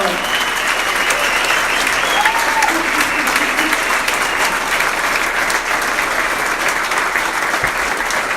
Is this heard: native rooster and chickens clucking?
no